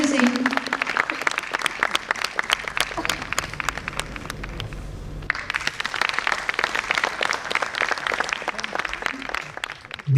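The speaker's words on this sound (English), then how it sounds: "Give a round of applause for Sri Gurminder Singh." Hall applause at a medical organization conference as a commandant is called on stage, steady crisp clapping for about ten seconds with a brief dip midway before it picks up again.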